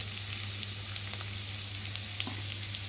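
Sliced potatoes sizzle steadily in hot oil in a pan as salt and turmeric go in, with a continuous close-up frying hiss, a few small crackles and a low background hum.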